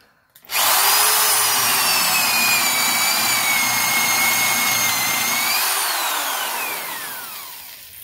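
A power drill with a forged spade bit bores into wood: a loud, steady high whine for about five seconds, then the pitch slides down as the drill spins to a stop.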